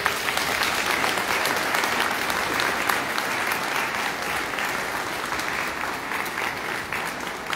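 Sustained applause from a large church congregation during Sunday Mass, steady and dense clapping filling the room without pause.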